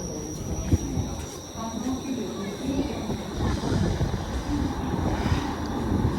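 A Toronto TTC Line 5 Eglinton westbound LRT train arrives at an underground station with a steady, rising rumble and faint wheel squeal echoing in the enclosed space, and a voice speaks faintly over it.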